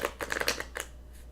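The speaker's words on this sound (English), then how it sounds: "So that's 3 shuffles, 3 cuts." A tarot card deck being shuffled by hand, giving a quick run of soft, papery riffling bursts close by over about a second, then trailing off into quiet.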